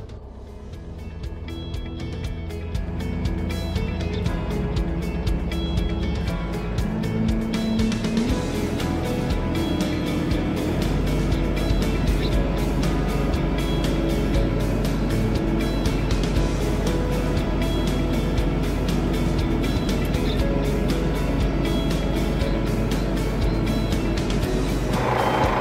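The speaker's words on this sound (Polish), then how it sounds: "Napęd wałka uruchamiamy wciskając przycisk i przytrzymując go przez chwilę." A Deutz-Fahr 5115 tractor runs with its PTO shaft drive engaged, giving a steady, loud engine drone that swells after a few seconds and then holds constant throughout.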